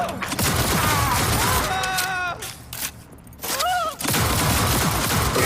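Gunfire in the video game Cyberpunk 2077, dense bursts of shots running through most of the stretch with brief lulls, mixed with game effects and some voices.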